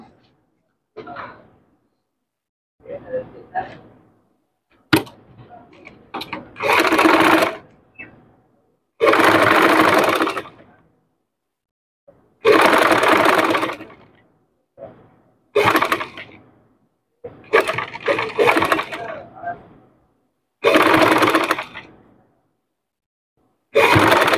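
A sewing machine stitches fabric in a series of short bursts of several seconds each, separated by pauses with faint handling noise, loud and close.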